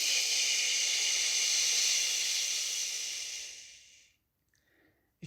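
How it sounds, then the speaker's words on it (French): A long, loud shushing exhale during an abdominal breathing exercise, a steady airy hiss lasting about four seconds before tapering off into near silence. "Allez, on inspire et on fait chut."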